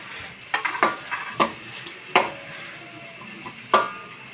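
Tomatoes sauté in a pan for a budget tuna pasta, a soft sizzle beneath scattered utensil scrapes and clinks against the pan, spaced irregularly and fairly close.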